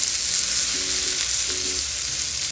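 Grated coconut roasting in ghee in a pan gives a steady, bright sizzle throughout, with a couple of faint stirring scrapes partway through and no talking.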